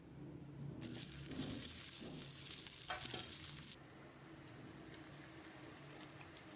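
Chopped onions dropped into hot oil in a pan for chicken gravy burst into a loud, bright sizzle that holds for a few seconds, then settles into a quieter steady frying hiss, close by with no talk.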